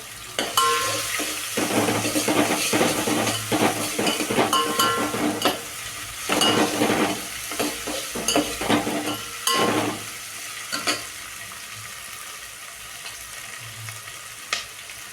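Browned onion frying with ginger-garlic paste for biryani, a steady loud sizzle broken by bursts of stirring and clinks of a utensil against the pan, easing toward a quieter simmer near the end.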